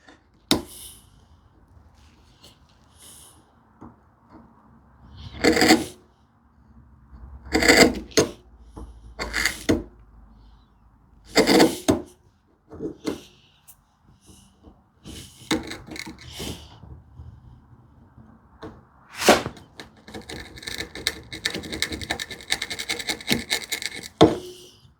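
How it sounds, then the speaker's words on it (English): A narrow hand chisel pares wood during a hand-tool cupboard build, cleaning up a shoulder. Separate short scraping and shaving strokes come at irregular intervals with quiet gaps between them, close by, and a longer rasping stretch comes near the end. "And I will take this chisel, narrower chisel"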